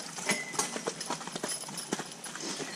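Draft horses walking on a wet trail in the rain, soft irregular hoof clops close by over a steady hiss of rainfall, fairly faint.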